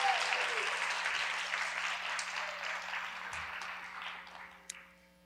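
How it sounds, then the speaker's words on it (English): Audience applause at a film festival awards ceremony, a dense crowd clapping that starts full and gradually fades out over several seconds, with a faint hum beneath. "can we have one more round of applause?"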